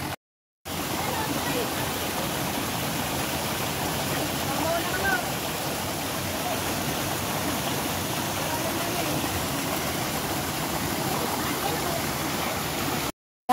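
A waterfall in hilly Hong Kong countryside roars as a steady, dense rush of falling water, loud and constant throughout with no pauses.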